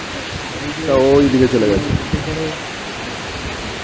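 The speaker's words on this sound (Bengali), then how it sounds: "এই হচ্ছে হুড্রু ওয়াটারফল।" Hundru waterfall produces a broad, steady roar of rushing water that fills the whole scene, with someone speaking briefly over it.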